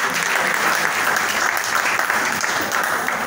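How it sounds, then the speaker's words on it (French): An audience at a NeoLife health and business gathering gives dense, even applause that stays strong and close throughout. "Est-ce qu'on peut applaudir pour Néolife?"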